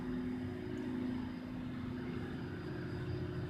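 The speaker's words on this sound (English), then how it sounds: "A tractor is just outside my window." A tractor engine runs just outside a window, a faint, steady low drone that holds without change and with no talk over it.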